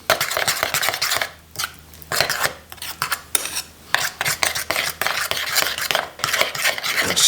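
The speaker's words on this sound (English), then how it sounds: "Gonna mix this all together." Smoked trout salad with fresh lime juice is mixed in a bowl, giving steady close-up scraping and clinking of utensils against the dish with short pauses and no talking.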